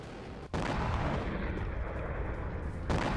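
An Iranian missile test launch rumbles as a deep, loud, continuous roar that starts abruptly after a brief dip and holds steady before swelling again near the end, with no voices.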